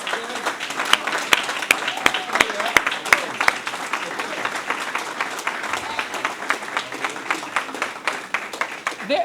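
Audience at a launch ceremony breaks into steady applause that carries through the whole stretch, with some speech mixed into the clapping.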